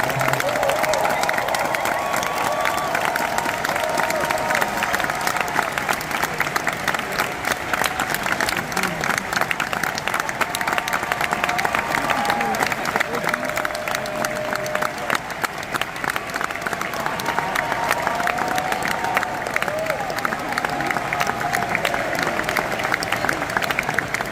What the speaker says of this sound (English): I want you to give a big round of applause to the good folks from Tron Ares.